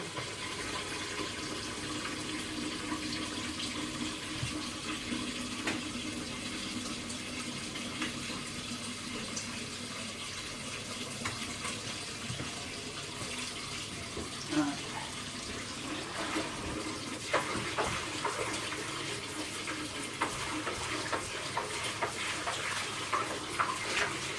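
Kitchen tap water runs steadily into a sink while a pot is washed out, a constant nearby hiss with occasional splashes and clatter.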